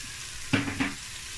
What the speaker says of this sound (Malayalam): നന്നായിട്ട് ഹൈ ഫ്ലെയിമിൽ വെച്ചിട്ട് വഴറ്റി കൊടുക്കുക.